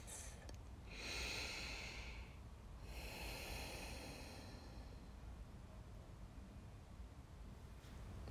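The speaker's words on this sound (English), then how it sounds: "Take some nice deep breaths." A person breathes deeply during a gentle yoga flow: a long, airy inhale or exhale through the nose followed by another slow breath, close and soft against a quiet background, with no talking.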